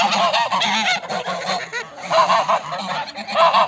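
Geese honking on a farm where young geese are raised, repeated loud nasal calls in quick overlapping bursts, close and with no talk.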